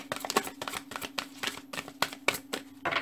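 Tarot cards are shuffled by hand in a quick, steady series of soft riffling flicks, close and fairly quiet, with no talking.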